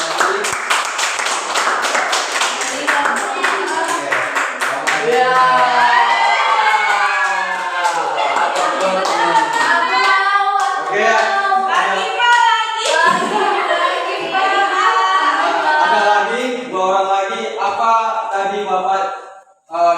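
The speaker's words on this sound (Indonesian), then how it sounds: "Tepuk tangan dulu untuk Yuni" A classroom of students claps for a classmate during a micro-teaching lesson, loud close-up hand claps merging with children's voices and a teacher talking over them, cutting off abruptly at the end.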